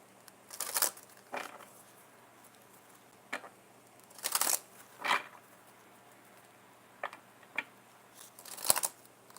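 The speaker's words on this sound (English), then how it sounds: "Gotta do that shuffle again." Tarot cards are shuffled in scattered bursts of quick papery riffles and soft slaps, close by in a quiet room, with pauses between handfuls.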